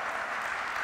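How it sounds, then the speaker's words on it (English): Brief, faint applause from a lecture audience, a soft continuous patter of many hands lasting under a second. "I think that deserves an applause"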